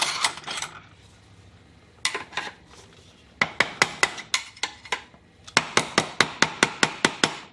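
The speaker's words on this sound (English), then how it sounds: "Grab the screwdriver" A hammer taps metal sharply, striking a screwdriver while installing a garage outlet, first in a few scattered knocks and then in quick, steady runs of strikes close by.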